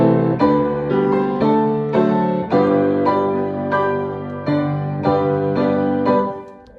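Last-line introduction of the hymn All Hail the Power on a keyboard instrument, full sustained chords moving in steady measured steps, each struck cleanly and held, closing on a final chord that fades away.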